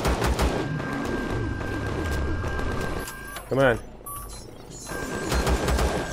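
Sentry guns in the video game Empyrion firing rapid bursts of automatic gunfire, loud and close, with a pause in the middle and a voice speaking briefly over the shooting.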